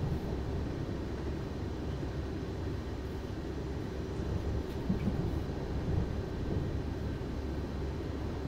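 An S-Bahn S7 train at Riedstadt-Goddelau in Train Simulator produces a steady, dense low rumble with faint rattling throughout, continuous and even in loudness, with no talking.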